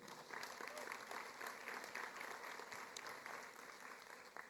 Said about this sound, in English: A big applause for Target Corporation.